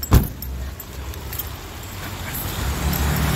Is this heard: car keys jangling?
yes